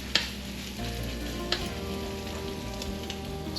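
Crab cake patties made from Florida crab fry in oil in a skillet, a steady close sizzle with a few sharp pops and spatters.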